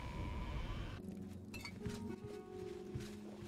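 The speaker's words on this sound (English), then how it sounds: "Someone just grabbed a drink. That noise is very distinct." Glass clinks faintly in a video game as someone picks up a drink, several light taps after a burst of louder background noise, with no talk.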